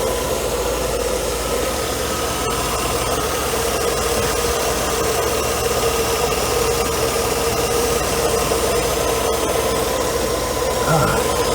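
A Mercedes W124 engine runs steadily at an emission testing setup in California, a loud continuous drone with a faint knocking texture and a little throttle given, with no clear talk.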